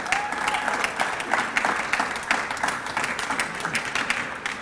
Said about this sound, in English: give Mr. Nelson a round of applause